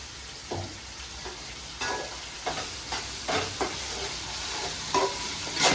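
Ginger garlic paste sizzles in a hot pan with a soft, steady frying hiss, broken by a series of sharper scraping stirs and clinks of a spoon against the pan.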